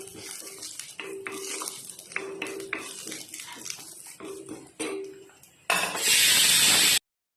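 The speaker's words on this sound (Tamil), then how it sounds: "கருவேப்பிலையை தாளித்து போட்டாச்சு." Curry leaves and mustard seeds are tempered in hot oil for pongal sambar. Utensil clinks and clatter come first, then a sudden loud, crackling burst of spitting sizzle near the end.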